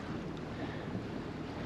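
Sailboat motoring under engine power at sea, a constant low engine drone mixed with heavy wind buffeting the microphone and wash of water, steady and unbroken.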